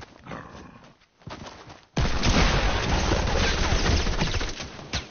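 Rapid gunfire in a video game rips out in a dense, loud burst that runs for several seconds after a quieter, choppy stretch, with the shots crowding together like a fusillade.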